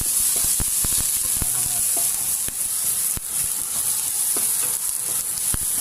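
Garlic sizzles loudly in a hot frying pan of oil for a Filipino patola soup with shrimp and misua, a steady bright hiss broken by sharp scraping clicks of a stirring utensil, close and continuous.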